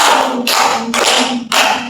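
Four loud, close unison claps ring out in quick succession as a counseling group plays a counting clap game.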